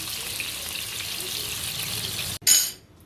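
Pieces of katla fish frying gently in oil, a steady close hiss and sizzle that cuts off briefly, then flares up sharply and fades away.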